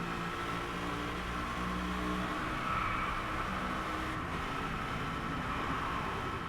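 A Mercedes SLS AMG Black Series in the Driveclub racing game on a Japan track gives a continuous close, droning exhaust roar as it drives at speed, with slight shifts in pitch throughout.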